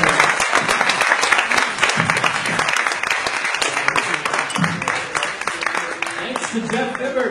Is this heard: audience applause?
yes